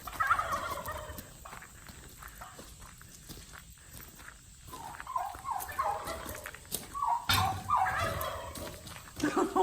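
Turkeys gobbling at a farm roosting area near a tractor, several bursts of the warbling call, some near and some farther off, with rustling and footsteps between them.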